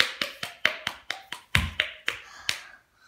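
Someone claps using just one hand, making about ten sharp, close slaps in a brisk, steady beat that stops abruptly into quiet.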